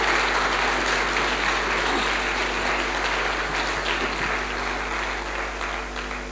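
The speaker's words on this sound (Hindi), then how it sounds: "एक बार जोरदार तालियों से मुझे गीत के लिए आदेशित करें।" Applause from an audience at a Hindi poetry recital (kavi sammelan), dense sustained clapping filling the hall and slowly tapering off, with no talking.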